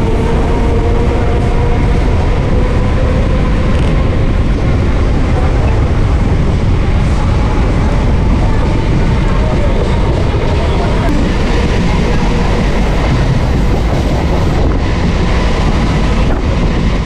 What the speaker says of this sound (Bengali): পাঁচবেড়িয়ার পর ট্রেন আড়ংঘাটায় হল্ট দিয়ে এখন প্ল্যাটফর্ম ছাড়ছে।